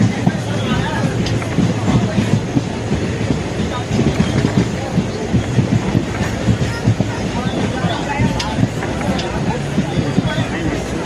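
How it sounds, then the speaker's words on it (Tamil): Passenger train rolling into Chidambaram railway station on the Tambaram–Trichy main line, a loud steady rumble with clattering wheels and wind, with voices chattering underneath. "இப்போ நம்ம சிதம்பரம் ரயில் நிலையத்துக்குள்ளே என்ட்ரு ஆகிட்டோம் பாருங்க."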